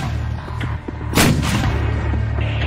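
A mortar battery in a Russian action film fires, giving one heavy, close boom that rolls into a rumbling tail, followed by a softer second thump over a low, steady background hum.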